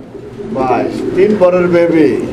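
A breeding pair of fancy pigeons coo close by: a few low, throaty, rolling calls that rise and fall, with some background noise around them.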